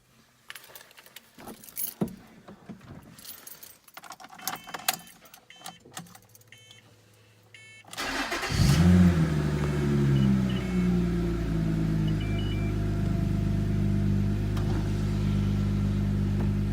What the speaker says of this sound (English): I'm going to go ahead and fire the car up for you